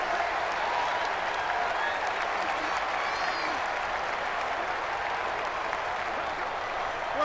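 Steady home-stadium crowd roar in the NFL 20 video game, a dense, continuous wash of cheering and noise holding at a constant level throughout, with no breaks or distinct voices standing out.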